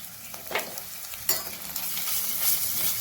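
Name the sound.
crushed ginger and garlic frying with browned onions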